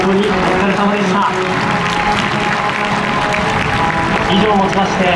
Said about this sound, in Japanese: 改めて皆様大きな拍手をお願いします。